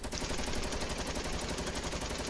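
Rapid automatic gunfire in the Fortnite video game, a dense, continuous burst of evenly spaced shots that holds loud and steady for the whole moment, with no talking.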